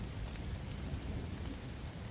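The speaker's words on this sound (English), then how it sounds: "so does the rain. The drumming against the windows fades to silence." Steady rain beats against windows during a thunderstorm, with soft, dense rushing hiss and a low rumbling undertone, quiet and continuous with no voices.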